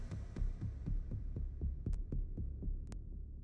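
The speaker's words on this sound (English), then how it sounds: "I wanted some digital synths in here, so I added this pluck." A soft digital synth pluck repeats in a steady, quick rhythm, each note decaying fast over a low, humming pad.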